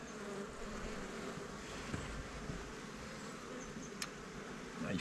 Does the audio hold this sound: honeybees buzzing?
yes